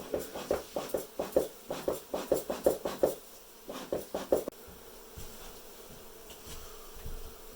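Honey bees buzz during a hive cutout in Dorrance, Kansas, heard as a rapid series of pulsing, rhythmic bursts close by, then settling into a steadier faint hum.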